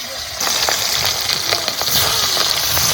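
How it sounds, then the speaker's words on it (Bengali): Fish sizzling in hot oil in a pan for a Bengali home meal, a steady loud crackle with sharp spatter pops running throughout after a brief quieter start. "তেল গরম হয়ে গেছে, এবার মাছ ভেজে নেবো।"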